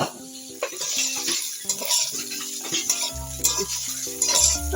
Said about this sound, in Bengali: এটা আমি একটু নাড়াচাড়া দিয়ে নামিয়ে নিই